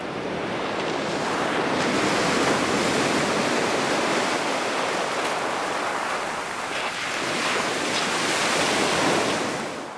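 Surf waves break on the beach at Kaikoura, New Zealand, a loud, continuous wash of rushing water with rising and falling swells and some wind buffeting, no voices.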